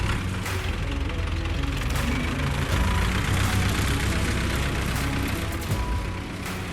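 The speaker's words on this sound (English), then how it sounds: "The sound of that tractor means it's time for us to go to work." A tractor engine runs steadily with a low, chugging diesel rumble and a faint knocking pulse, fairly close and continuous, with no voices.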